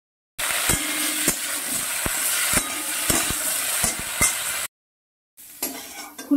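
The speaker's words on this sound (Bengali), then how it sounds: "এবার আমি ফুলকপিগুলো ভেজে নেব।" Cauliflower fries in hot oil in a wok, a close, steady sizzle punctuated by sharp clicks and pops, cut off by a short silence before the frying noise resumes.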